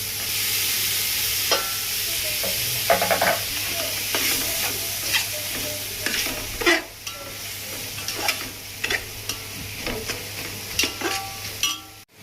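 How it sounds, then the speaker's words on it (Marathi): Tomatoes go into a pan of frying chili, ginger and garlic paste for chicken pulao, giving a steady close sizzle broken by repeated stirring scrapes and clinks. "आता आपण मिरची, अद्रक, लसूण पेस्ट चांगल्या परतल्यानंतर त्यामध्ये टोमॅटो टाकणार"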